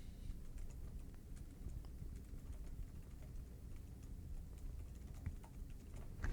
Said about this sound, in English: I'm typing that right now.